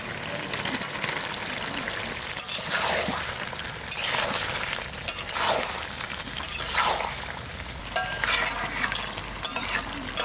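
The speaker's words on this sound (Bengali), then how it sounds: "ভাজা আলুটা দিয়ে দেবো" Steady frying sizzle of new potatoes in oil with stirring scrapes throughout, a crackling, hissing texture rising and falling in bursts, close by with no voices.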